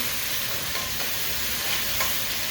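Steady, loud sizzling of seasoning frying in a hot pot for curry, a dense crackling hiss with no voices.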